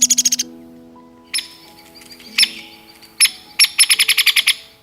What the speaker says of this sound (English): this bird's call, which sounds like a descending high-pitched whinny or cackle